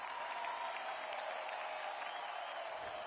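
A stadium crowd in the AFL 26 football video game applauds and cheers steadily throughout, a broad wash of clapping and crowd noise heard from a distance at moderate volume.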